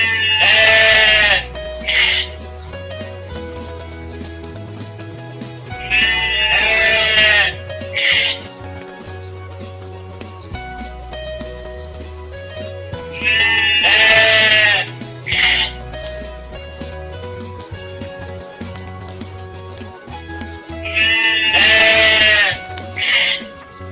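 Sheep bleat in repeated loud bursts over steady background music, several quavering calls arriving in pairs at fairly regular intervals.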